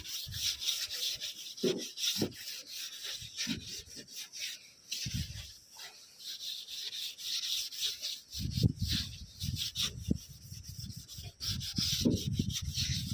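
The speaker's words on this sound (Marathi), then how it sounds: "तुम्हाला हे जे साबण आहे ते घासून घ्यायचं" Soap is rubbed by hand over a car headlight's glass, giving steady scrubbing and squeaky rubbing strokes in uneven bursts, close and fairly quiet, growing busier in the second half.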